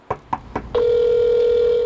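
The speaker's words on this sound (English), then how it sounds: "making phone calls" Three short touch-tone key presses on a telephone are followed by a steady, loud dial-type tone held to the end, heard close and with no voices.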